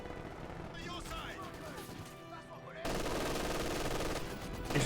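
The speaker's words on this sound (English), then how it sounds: "MG42 does get some volleys there on the 6-pounder" MG42 machine gun volleys in the Company of Heroes 2 video game, heard as a dense rattle of gunfire under a commentator's steady talk, swelling louder and fuller in the second half.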